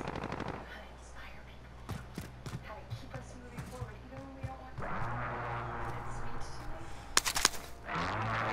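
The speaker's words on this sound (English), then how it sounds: "Gunfire right here, right here, right here, gunfire." Rapid bursts of gunfire from the video game Call of Duty: Modern Warfare rattle through the clip, sharp clusters of shots mixed with other game noises and a steady low background hum.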